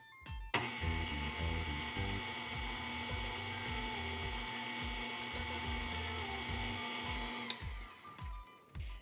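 A stand mixer's paddle turns flour into a low-sugar cheesecake batter, a steady close motor whine with rhythmic knocking from the paddle. It starts abruptly, runs evenly for about seven seconds, then winds down.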